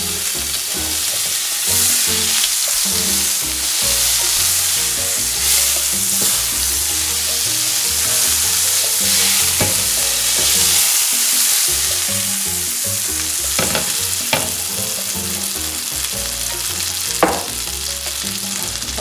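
Oil and a spoonful of butter sizzling hard in a pan for an omelette, a loud, steady, dense hiss with scattered sharper pops and spatters throughout.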